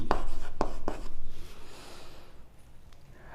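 Chalk or marker strokes on a board during a maths lesson, a few sharp taps and scratches close by in the first second, then fading into quiet room noise.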